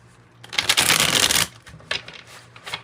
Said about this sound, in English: I don't know why I'm shuffling so much